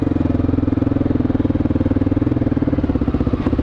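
A 2008 Honda XR650L big single-cylinder motorcycle engine runs with a loud, steady, rapid thumping pulse, close up and continuous, with no voices.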